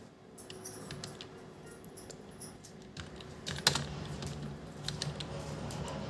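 Close, moderately loud clicks of a computer keyboard as a Hindi word is typed in an Inscript layout, scattered single keystrokes and short runs over a quiet background, with nobody talking.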